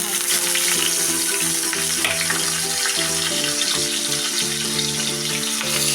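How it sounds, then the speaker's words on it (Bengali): Fish pieces frying in hot oil in a wok, a loud continuous sizzle and crackle with faint clinks over a steady hiss, no voices. "এবার আমি মাছগুলোকে ভেজে নেব"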